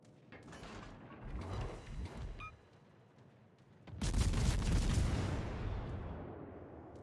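Naval guns fire in World of Warships, a Dutch cruiser battle: booming rumbles and thuds come in bursts, with a heavier, sustained salvo crashing in after a brief lull.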